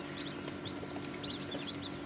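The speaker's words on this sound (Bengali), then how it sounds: "এই যে মিশরীয় ফার্মি মুরগি।" Egyptian Fayoumi chickens on a poultry farm in Bakshiganj, Jamalpur, make a steady stream of high, thin peeps and soft clucks close by over a constant low hum.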